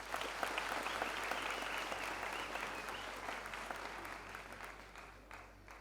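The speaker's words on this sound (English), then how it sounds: "Another round of applause" Sustained applause from a large audience at a university first-year student orientation in 2024, steady and dense throughout and thinning slightly toward the end, with no talk over it.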